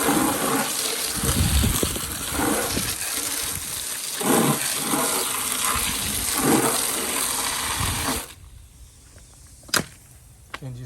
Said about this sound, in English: To clean it out, I'm just going to use the hose.